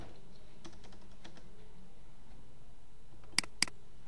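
Computer keyboard typing while entering text in Microsoft Word, light steady key clicks running through the clip against a faint background hiss, with two sharper louder keystrokes near the end.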